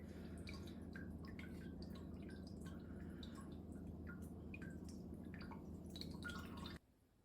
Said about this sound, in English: We'll just allow that to drip a little bit before we try and put the next lot in.